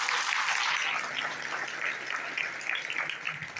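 An audience claps after a song, a dense burst of applause that starts strong and gradually thins into scattered claps over a few seconds.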